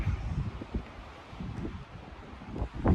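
Strong wind buffeting the microphone in rough, low gusts on Kearsarge Pass, rising and falling continuously outdoors with no voices.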